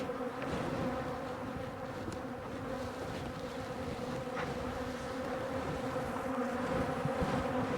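Bees buzz at a hive, a dense, steady hum of many insects that stays close and fairly quiet throughout, with no voices.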